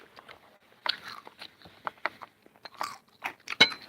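Close, crisp crunching of fried food being bitten and chewed, irregular crackly bursts with quiet gaps between, no talking.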